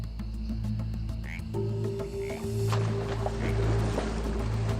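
Rocket frogs croak at a waterhole in a repeated, pulsing chorus, steady low calls layered with brief higher chirps, fairly close and continuous with no voices.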